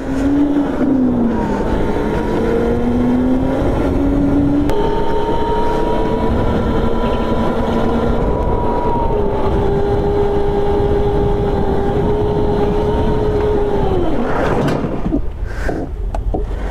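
Go-kart engines droning on an indoor karting track at a Gurgaon mall, a continuous loud motor whine rising and falling in pitch, ending in a short burst of clattering noise, with no talk.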